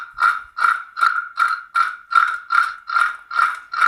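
Crispy ripe banana chips seasoned with chaat masala rattle and crunch as they are tossed in a bowl, ten regular close bursts in a steady rhythm with no talk.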